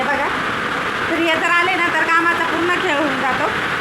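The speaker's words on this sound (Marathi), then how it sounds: "आता प्रचंड पाऊस चालू आहे आमच्या इथे" Heavy rain falls in a steady, loud hiss that fills the whole clip, with voices talking over it.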